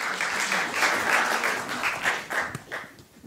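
Audience at a housing debate in Amsterdam breaks into steady applause, a dense wash of clapping that swells and then trails off over a few seconds.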